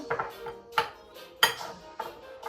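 Mixing crab pastry filling in a bowl, a spoon scraping and knocking against the bowl in several sharp clinks and bursts of rubbing, close and fairly quiet with no talk.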